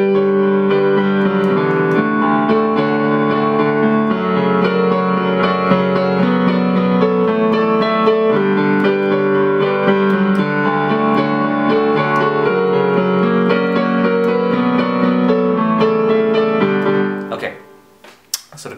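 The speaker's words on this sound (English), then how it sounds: "So on piano it sounds like this." Solo piano plays the verse chords, sustained block chords in a steady, moderately loud progression for about seventeen seconds before fading out.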